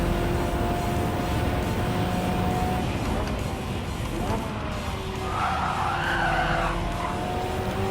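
Car tires skid and squeal under braking in the racing game Gran Turismo 7, a loud continuous screech over steady engine drone with no gaps, the squeal rising briefly near the end.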